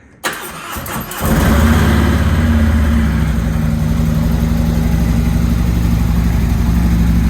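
A Harley-Davidson motorcycle engine cranks and catches, then settles into a loud, steady, rumbling idle as it warms up, running alone without any talk.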